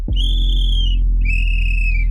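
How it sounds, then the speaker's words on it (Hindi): A night watchman blows two long, shrill whistle blasts, each about a second long with a short gap between them, loud and close over a low background hum. "चौकीदार सीटी बजाता है"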